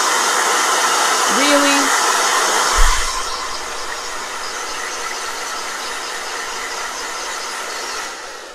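A blow dryer runs with a loud, steady whooshing hiss that carries through the whole stretch and eases off slightly partway, with a brief spoken word near the start.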